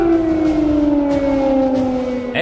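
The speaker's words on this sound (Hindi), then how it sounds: "शहर में रहकर बजता हवाई हमले के अलर्ट का सायरन" An air raid alert siren wails across Kyiv, a loud sustained tone with a slowly sinking pitch that fills the whole stretch with no other sound over it.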